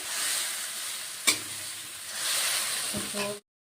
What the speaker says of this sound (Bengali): গন্ধবেদেলা পাতাটা দিয়ে দেই, ভালো করে অল্প ভেজে নিতে লাগে।